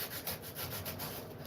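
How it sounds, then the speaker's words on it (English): Steady abrasive rubbing of sandpaper over a fiberglass car door panel, a rhythmic back-and-forth scraping with regular strokes, close and fairly quiet, with no talk. "we're just kind of sanding this down"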